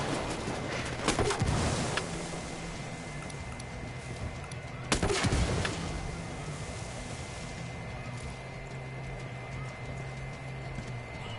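Gunfire in Ghost Recon Wildlands, with two loud sharp bursts around the second and fifth seconds over steady galloping hoofbeats and a low drone, ending in quieter rumbling.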